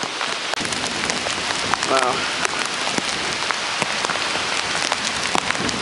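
Heavy rain from Tropical Storm Irene pours steadily in upstate New York, a dense continuous hiss of drops drumming on surfaces up close, with a brief spoken exclamation partway through.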